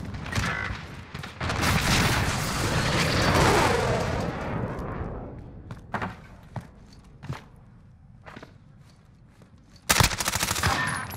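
Rapid automatic gunfire from a multiplayer shooter video game, loud and dense bursts at first, thinning into scattered single shots and sharp cracks, then one close burst near the end.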